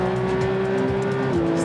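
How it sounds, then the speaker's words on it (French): A Porsche GT3 engine held at high rpm, a loud, steady, close mechanical howl that dips slightly in pitch near the end, with no talking over it. "C'est un moteur qui aime beaucoup les hautes révolutions."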